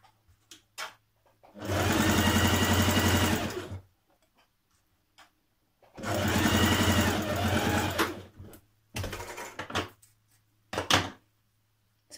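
A domestic sewing machine runs two sustained bursts of stitching, about two seconds each, while understitching a seam on a shirt dress; short mechanical clicks and handling taps fill the pauses, with a low steady hum underneath.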